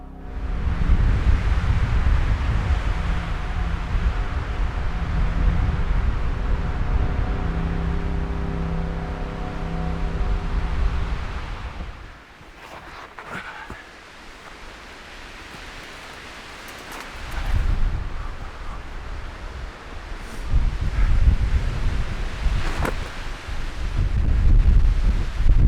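Fierce winter wind on a Colorado mountain summit near cliffs, roaring and buffeting the microphone in long heavy gusts that drop briefly to a quieter lull midway before surging back, with no voices.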